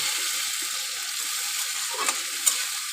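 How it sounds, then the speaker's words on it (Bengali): Ground paste and chopped tomato sauté in a pan for a jackfruit and prawn curry, producing a constant close hiss of frying with a couple of faint spatula scrapes and no talking. "ভালো করে আমি কষিয়ে নেব"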